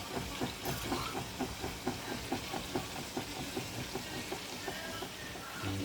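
A pot of rice and peas bubbles steadily on the stove, giving a continuous soft steamy hiss broken by regular, evenly spaced bubbling pops, close and fairly quiet, with no voices.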